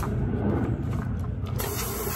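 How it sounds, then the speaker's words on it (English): An airbrush spraying alcohol to flush paint out of its cup and nozzle, a loud continuous hiss that shifts brighter near the end. "I'm gonna spray."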